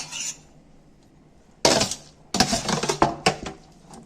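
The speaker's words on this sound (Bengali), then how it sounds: "এইবার কিন্তু আমি মিক্সারের জারে তুলে দিচ্ছি" Spinach and mung dal mixture is scooped from a steel plate into a mixer jar, giving a few sharp metallic clinks and scrapes in short bursts after a quiet pause.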